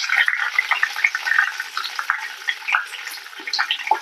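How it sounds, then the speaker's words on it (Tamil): Curry leaves sizzle in hot oil for a Tamil mutton chops pepper masala, a steady crackling hiss with scattered sharp pops, close and fairly loud with no talk. "கருவேப்பிலை நல்லா எண்ணெயிலே வதக்கி எடுத்துக்கோங்க"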